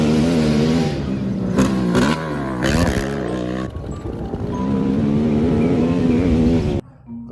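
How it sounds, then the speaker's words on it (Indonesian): An ATV engine revs close by, its buzzing note climbing and falling in several throttle bursts with brief sharp spikes, then cutting off suddenly near the end. "Wah, ada motor ATV teman-teman."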